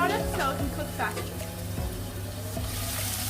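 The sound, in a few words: onions frying in pan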